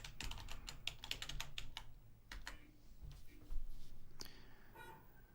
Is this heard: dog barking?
no